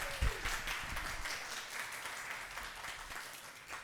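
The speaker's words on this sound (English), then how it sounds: "please give a round of applause for Kelly Frazier" Audience applause for Kelly Frazier at a racial justice talk in Jacksonville, a steady wash of many hands clapping that holds at an even level for the full stretch with no voices over it.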